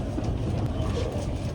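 Heard from on board, a two-car limited express diesel train runs along the JR line between Kusatsu and Maibara, giving a steady low engine rumble and rolling wheel noise.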